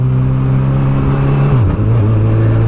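A 2019 Honda CB1000R with a Termignoni GP2R exhaust pulls loudly in first gear with a steady droning note, then drops in pitch as it shifts into second and keeps pulling, close and alone.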